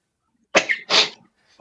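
A person sneezes twice in quick succession during a podcast conversation, two sharp, close bursts with a brief gap between them and quiet before and after.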